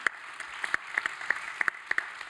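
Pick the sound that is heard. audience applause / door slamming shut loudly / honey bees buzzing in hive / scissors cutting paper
audience applause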